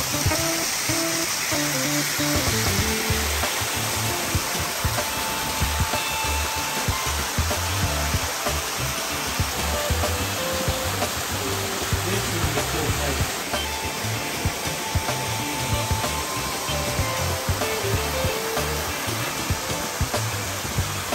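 Waterfall in the middle of the jungle, a loud unbroken rushing roar of falling water, broad and steady for the whole stretch with no voices.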